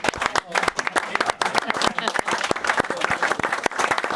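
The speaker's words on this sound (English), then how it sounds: "Give him a round of applause." A crowd applauds a boxer, Fabio Wardley, with dense, steady clapping filling the whole stretch, mixed with voices talking over it.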